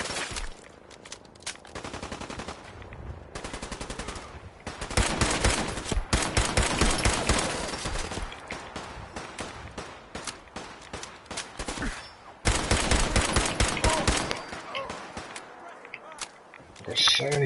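Gunfire in the video game Fallout 4, dense rapid bursts of automatic shots in long loud stretches broken by brief pauses, with talk in places.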